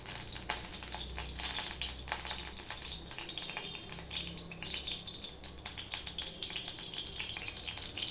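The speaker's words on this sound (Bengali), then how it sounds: "এদিকে দেখো একটা কড়াই বসিয়ে দিয়েছি, কড়াইতে আমি সাদা তেল দিয়ে দিচ্ছি।" White cooking oil pours into a wok, producing a steady, close, watery splashing and trickling with a faint sizzle throughout, continuous and without speech.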